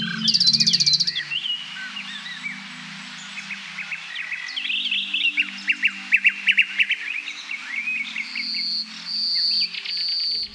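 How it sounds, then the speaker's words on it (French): A male common nightingale sings in the wild in the Baie de Somme, a varied run of clear whistles, rapid trills and chirps, moderately near over a quiet low background, with no voices. "Lui, c'est le rossignol philomèle,"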